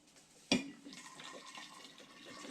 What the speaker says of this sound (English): we got some hot boiling water here, and this will help dissolve the sugar